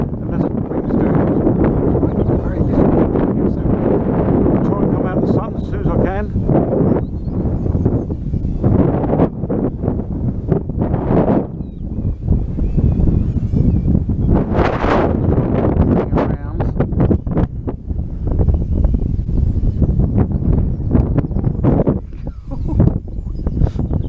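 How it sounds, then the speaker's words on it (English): Wind buffets the microphone in loud, continuous rumbling gusts that run the whole stretch, heavy and low with brief lulls, likely with a voice partly mixed in. "And that's what the wind's doing. It's making it very difficult."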